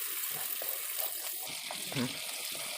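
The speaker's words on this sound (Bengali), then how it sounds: "এখন জল দিয়ে দিচ্ছি" Water pours into fried mustard-poppy spice paste in a pan for a light hilsa fish curry, a soft splashing sizzle, fairly faint, with a voice speaking over it.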